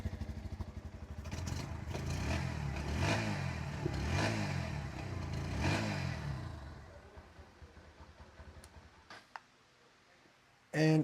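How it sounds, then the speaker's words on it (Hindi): Bajaj Pulsar NS125 motorcycle engine close by, loud and throbbing through several rising and falling throttle blips, then dropping back toward a quieter idle, with a few sharp clicks and a brief loud burst near the end. "अभी रेस करते हैं।"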